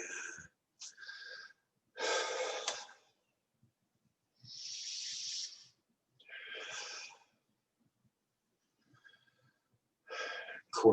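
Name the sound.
breathing out through the mouth during qigong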